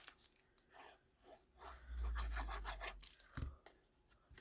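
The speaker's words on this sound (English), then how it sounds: "So I'm just going to trim off that edge" Paper edge being trimmed during a card-making session, heard as soft rasping, rubbing cutting strokes up close and fairly faint, with a fuller pass in the middle and no talk.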